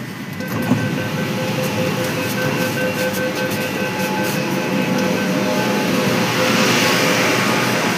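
A Kolkata underwater metro train runs with a loud, steady rumble and rattle of the carriages, a faint electrical whine holding throughout without a break.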